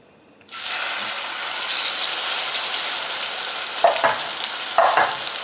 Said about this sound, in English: We're going to brown it on both sides